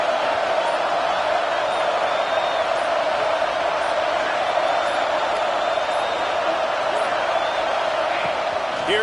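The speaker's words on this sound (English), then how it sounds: "This crowd full throat, spreading the eardrums" A football stadium crowd at Michigan versus USC roars steadily throughout, a dense, sustained wall of cheering at full volume with no letup.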